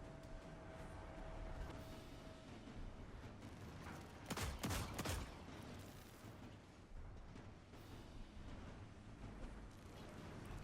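Sustained gunfire in Destiny 2 during a solo Master Nightfall Ordeal on Proving Grounds as a Hunter, a dense steady barrage of shots and blasts with a louder burst of booming explosions near the middle, no talk.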